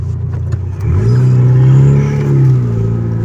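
A car pulls into the busy entrance of the Çubuk livestock market, its mid-range engine loud and close, rising into a sustained rev before easing off slightly, with occasional clatter and no talking.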